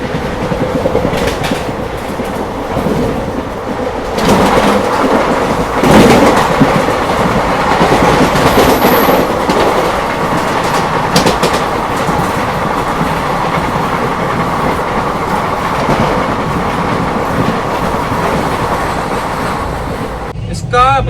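Shridham Express sleeper coach in motion, a steady loud rumble with clickety-clack of wheels on rail joints running throughout, voices talking intermittently over the train noise.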